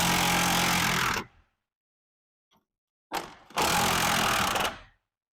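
A battery impact wrench loosens the U-bolts on a 4x4's leaf springs, firing two loud, close bursts of hammering, the first about a second long and the second nearly two, with a short stuttering pulse between them.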